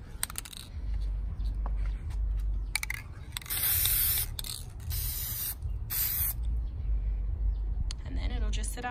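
Aerosol spray paint hisses onto a wine glass in two strong bursts, one longer and one shorter, with quieter handling and a low background hum between them.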